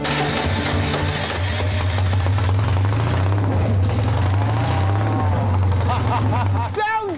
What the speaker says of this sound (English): Larry is powered by an old 2CV engine, and it was time to hear it roar.